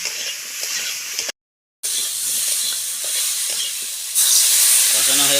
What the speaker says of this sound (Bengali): এবার সুন্দর করে কষিয়ে নেবে